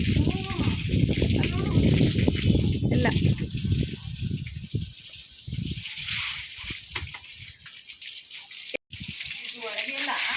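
Water pours and sloshes steadily, close by, as a toilet is washed while people talk over it; the splashing continues after the voices thin out.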